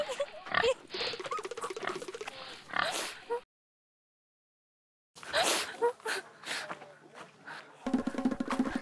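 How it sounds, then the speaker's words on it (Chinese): A piglet runs about outdoors, giving repeated close grunts, snorts and squeals in short bursts, broken by a brief silent gap midway. "小猪仔，就猪，就猪，就猪，跑的还挺快。"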